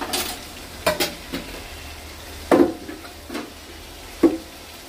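Chicken frying in a pan as red chilli powder goes in, with a steady sizzle under several distinct scrapes and clinks of a spoon stirring against the pan.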